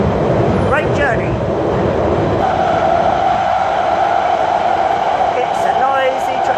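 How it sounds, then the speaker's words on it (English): Noisy interior of a train carriage on the move, 92257, a loud steady rumble and rattle throughout with faint squealing tones, while people talk over it. "It's a noisy train"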